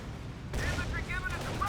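A sniper shot in the video game Company of Heroes lands as a sudden loud crack followed by a rumbling battlefield boom, with someone commentating over it.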